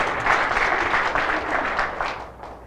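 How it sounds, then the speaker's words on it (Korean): A room of attendees at a business presentation breaks into warm applause of many hands clapping together, steady and fairly close, tapering off slightly toward the end. "큰 박수 한번 부탁드리겠습니다"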